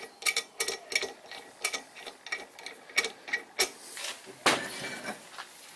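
A bolt is screwed back into the crank of a Flanders 20 motor, giving a run of sharp metallic ratcheting clicks in an uneven rhythm, close and fairly crisp.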